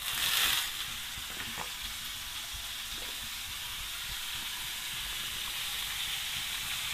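Butter and chopped onions sizzle on a very hot, thick tawa, beginning with a sharp hiss as they hit the metal and settling into an even, fairly quiet frying crackle with no talk.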